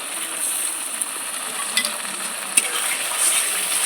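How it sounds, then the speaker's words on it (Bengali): Spice paste with tomato sizzles in a pan as it is stirred, a soft steady hiss with occasional scraping clicks of the spoon, close and uninterrupted, without any voices. "মশলাটা ভালো করে কষিয়ে নেব"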